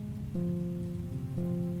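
Rain falling steadily in a murky night street scene outside a bar, a taxi waiting nearby, with a soft continuous patter under a low sustained musical drone.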